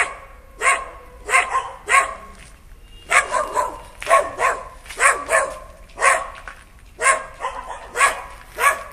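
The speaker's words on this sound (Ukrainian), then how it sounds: "Тут ці собаки дурні гавкають" Several dogs bark in short, repeated bursts of two or three yaps over nine seconds, heard from a small city balcony in Uzhhorod at moderate distance with quiet gaps between volleys.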